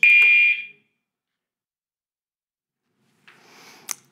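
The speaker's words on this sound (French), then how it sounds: "il y a une alarme de feu qui vient de se déclarer." A fire alarm in a building at a conference gives one loud, shrill electronic blast lasting about half a second, followed by near silence and faint rustling near the end.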